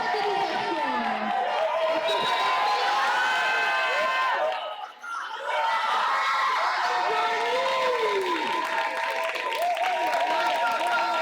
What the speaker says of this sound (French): Ah oui, on peut l'applaudir.